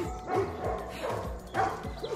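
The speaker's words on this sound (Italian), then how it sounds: "Veramente c'è un cane lì che ci abbaia e non capiamo se è recintato o no." A dog behind what may be a fence barks repeatedly at passersby outdoors, four or five loud, fairly close bow-wow barks in a quick irregular rhythm, with little else audible.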